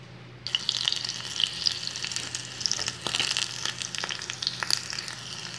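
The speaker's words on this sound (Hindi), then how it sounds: "एक कलछुल में तेल गरम कर लेंगे और उसमें हरी मिर्च डाल देंगे" Continuous close sizzling and crackling of green chilies frying in hot oil in a ladle, with sporadic sharper pops.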